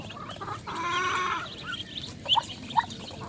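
A chicken clucks close by in a short run of soft calls, followed by a couple of brief sharp chirps.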